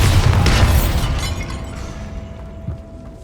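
Bombarda blast spell from Hogwarts Legacy going off in a tomb: a loud burst with shattering debris at the start, fading into a rumbling tail and a small thud near the end.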